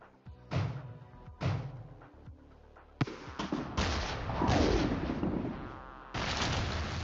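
Anti-aircraft flak fire in the video game REDCON, heavy booming bursts that come in irregular clusters, with loud detonations and rumbling tails overlapping into a sustained barrage.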